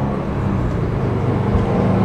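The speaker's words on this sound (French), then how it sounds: "je m'attendais pas qu'on entendrait autant le son de l'exhaust comme ça en arrière" A stock 2018 Subaru WRX STI's engine and exhaust hum in a steady, close, low rumble heard from inside the car while driving, with no change in pitch or voices over the short stretch.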